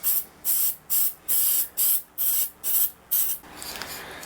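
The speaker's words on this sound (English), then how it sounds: "let's hit this thing with some activator" CA glue activator is sprayed on a guitar build in eight quick, evenly spaced hissing bursts, close and fairly loud, followed by a softer, lingering hiss.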